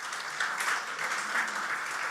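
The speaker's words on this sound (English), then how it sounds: "can I request you to clap a little bit louder?" Summit audience in a conference hall applauding, a dense, even wash of clapping from many hands at moderate volume, heard alone without talk.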